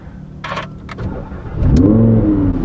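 An Audi R8 sports car engine starts with a brief cranking whir and a few clicks, then catches and settles into a loud, close, rising idle rev.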